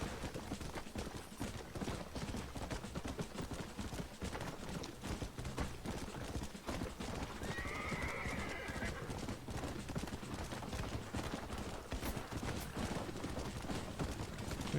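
A horse gallops in the Red Dead Redemption video game, its hooves clip-clopping in a fast, steady rhythm throughout. A whinny rises in the middle, all under a busy backdrop of game noise.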